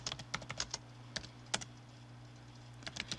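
Typing a git command on a computer keyboard, irregular clusters of sharp close keystrokes separated by short pauses over a faint steady hum.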